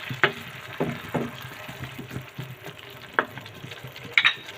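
Sardines cooking in a pan with okra and malunggay sizzle and fry as a little broth is poured in, with soft stirring clatter and scattered utensil knocks close by.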